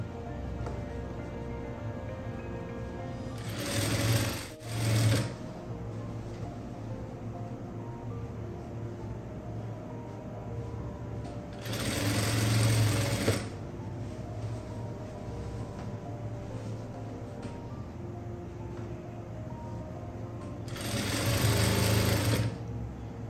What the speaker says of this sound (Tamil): ஸ்டிச் பண்ணிட்டு இருக்கேன்.